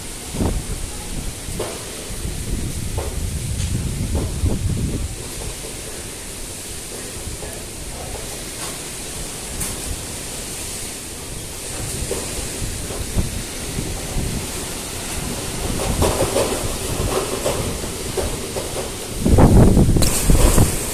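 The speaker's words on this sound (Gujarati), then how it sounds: "વરસાદ ચાલુ છે" Steady, dense rain with gusting windstorm noise roars outdoors during an unseasonal summer storm, loud and continuous throughout, with rumbling low swells and a stronger gust near the end; no talking.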